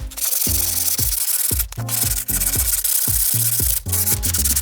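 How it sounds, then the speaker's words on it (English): Sanding the corner of a plywood stool made from a half sheet of plywood, a loud continuous abrasive rubbing in steady back-and-forth strokes with brief pauses, close up and alone. "We can do all that with a sanding."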